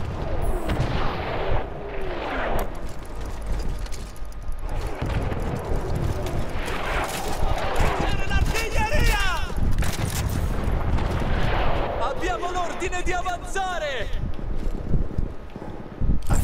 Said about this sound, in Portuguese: Uma arma de artilharia bombardeando a nós e a unidade de bateria.